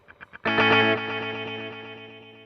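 A Fractal FX8 multi delay set to quad tap follows a few quiet plucked notes with a loud distorted guitar chord, then repeats it as a pulsing train of echoes that slowly decays, with no voices.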